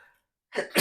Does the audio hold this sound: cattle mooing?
no